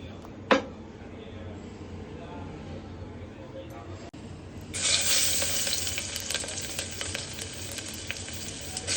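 Oil sizzles loudly in a pressure cooker, a sharp hiss surging up midway and holding steady, with a brief clatter near the start.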